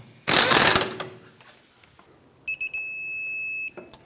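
A ratchet turns in quick clicking bursts while a rear shock absorber bolt is tightened to torque on a 2012-2020 Ford Focus, preceded by a loud broadband rattle of tool handling, close and with no talking.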